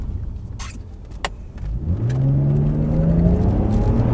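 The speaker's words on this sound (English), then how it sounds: "show you a little pull with the engine as well, so you can experience it" A BMW E36 328i engine pulls hard under acceleration, its tone climbing steadily and growing louder from inside the car after some quiet cabin clicks.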